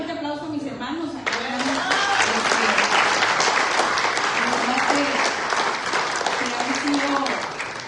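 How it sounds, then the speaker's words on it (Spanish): Church congregation giving a loud round of applause at a sixteenth anniversary service, sustained dense clapping with voices talking and calling out underneath. "le voy a pedir un fuerte aplauso a mis hermanos acá"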